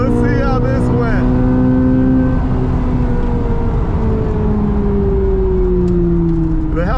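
Drag race against a modded Dodge Hellcat: a loud, close engine roar with rising whine that sweeps down in pitch as the cars pull away.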